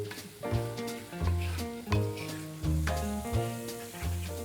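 Mung beans dropped into hot oil in a kitchen pan, a bubbling sizzle rising in short repeated bursts, close and fairly loud, with tonal clinks from utensils or pan in a steady rhythm.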